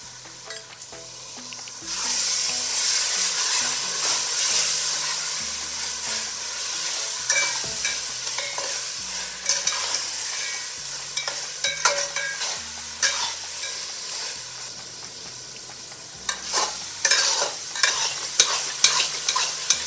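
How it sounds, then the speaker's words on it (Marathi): A masala with turmeric for mutton biryani is stir-fried in a pan, with a continuous sizzle broken by repeated scraping strokes of the spoon that grow sharper toward the end, while soft music plays underneath. "आपण हा मसाला चांगला परतून घेऊया. त्याच्यामध्ये आपण हळद टाकूया."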